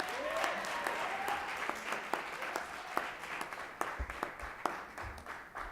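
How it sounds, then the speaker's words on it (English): Applause fills the room at a Black History Month honorees ceremony as the audience claps again for an honoree, steady clapping with distinct sharp claps and a few faint voices, fading slightly toward the end. "Another round of applause for Fritzner."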